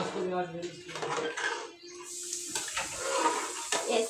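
Rice is stirred into water in a cooking pot, giving soft sloshing and scraping with a few clinks of a utensil against the pot, close by, while someone talks over it.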